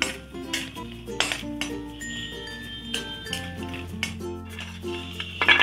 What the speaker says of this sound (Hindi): इसमें हमें ड्राई फ्रूट्स को हल्का हमें इसे थोड़ा भून लेना है